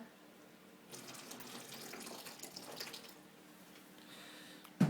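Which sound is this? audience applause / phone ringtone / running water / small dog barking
running water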